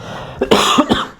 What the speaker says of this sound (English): So I've got a cough.